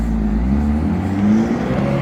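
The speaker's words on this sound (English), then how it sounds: "Oh, that's his engine." A car engine rumbles and revs with a low, steady roar, close by and fairly loud throughout.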